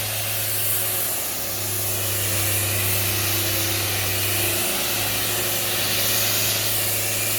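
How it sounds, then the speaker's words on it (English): A steady mechanical drone from a mining drill inside a mine in Arkansas, with a constant low hum and broad hissing noise throughout, like heavy drilling machinery operating nearby. "Sounds like the drill's coming up"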